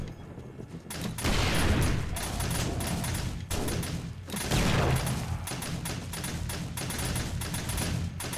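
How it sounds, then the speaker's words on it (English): Shotguns fire in a game of Darkness Falls during a blood moon horde night, sounding as dense, continuous volleys of overlapping blasts that run for several seconds with brief lulls, loud and close throughout. "the shotguns are having a go"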